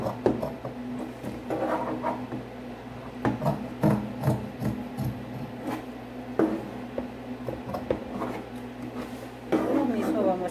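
Scissors snip through fabric for a toiletry bag in short, irregular close cuts and rustles, with someone talking throughout.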